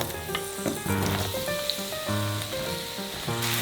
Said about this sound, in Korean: 달궈진 후라이팬에 식용유 한 숟가락 넣으시고요. 이기에 호박을 넣어주세요.